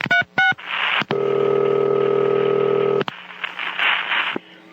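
A telephone being dialed to call Lou Philpott: a quick burst of touch-tone beeps, then a long steady dial tone, followed by faint ringing and low background noise.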